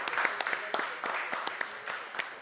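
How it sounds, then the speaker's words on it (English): Audience applause at a live coaches radio show, a crowd clapping steadily with scattered sharp claps, fairly faint and even throughout. "Y'all give yourselves a round of applause."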